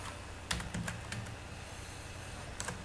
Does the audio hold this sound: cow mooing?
no